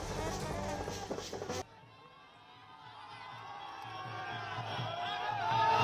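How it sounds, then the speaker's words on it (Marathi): Party supporters celebrate a Bihar election victory with a loud burst of crowd cheering that cuts off abruptly. A quieter, rising mass of crowd noise follows. "हे दृश्य आपण बघतोय हे सगळे समर्थक कार्यकर्ते आहेत जे जल्लोष करतायत विजयाचा"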